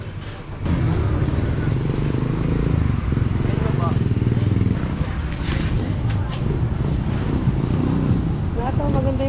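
A diesel motor runs steadily at close range, a continuous low rumble with some wind noise over it and voices talking throughout.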